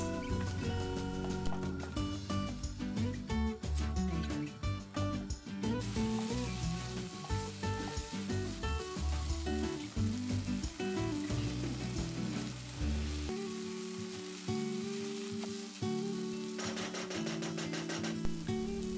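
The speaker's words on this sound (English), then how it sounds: "Fry this for about 8 to 10 minutes." Spices with red chilli powder, Goan vinegar and salt fry in a pan, a steady sizzle running beneath loud background music for the whole stretch.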